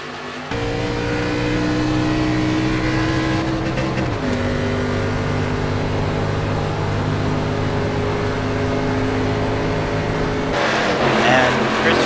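ERA Winston Cup stock cars race at Atlanta after the green flag restart, a loud steady roar of engines with rising and falling harmonic tones, an announcer talking over the continuous racing noise throughout.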